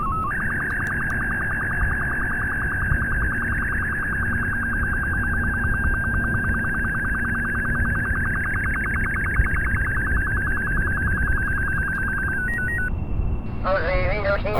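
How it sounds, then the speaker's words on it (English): A science experiment in the space-flight game Kerbal Space Program gives a long, steady electronic tone that holds for about twelve seconds and ends in short beeps, sounding under continuous talk from a player. "we have some science, so we will hear some beeping"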